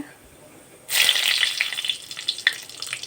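Cumin seeds and dried red chillies dropped into hot oil for an Assamese sweet chana dal, a sudden loud bright sizzle that bursts in and keeps crackling and spitting, slowly easing, with no voice over it.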